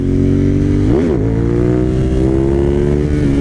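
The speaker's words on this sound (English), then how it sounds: "Yeah, she wheelies pretty dang good for an old girl. That is a second gear sit down." A high-mileage Suzuki TL1000R V-twin motorcycle revs loud and close in second gear during a wheelie, with a steady engine drone that surges and dips in pitch briefly before settling into a sustained roar.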